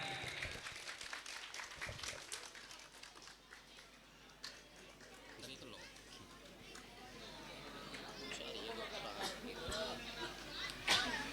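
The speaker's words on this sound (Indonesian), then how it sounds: "Kasih tepuk tangan yang meriah untuk peraih pemenang merangkai kalimat." An audience at a school prize-giving ceremony applauds a sentence-arranging competition winner, loose scattered clapping with crowd chatter throughout, fairly distant in a reverberant hall.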